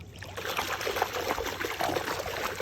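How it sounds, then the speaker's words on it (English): Water trickling and pouring as it drains into a hole dug in sand at a campsite in Tennessee, a steady dribbling wash that runs throughout at moderate loudness with no talk over it. "Alright, let's watch the water clear away."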